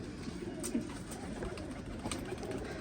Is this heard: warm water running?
no